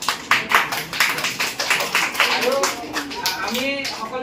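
Students applaud two fellow students at a school event, a short burst of clapping heard under a talking voice that carries through the whole stretch.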